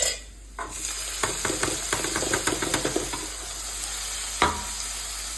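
Tomatoes dropped into a hot frying pan for pasta sauce, setting off a steady close sizzle and hiss with scattered scraping and stirring clicks.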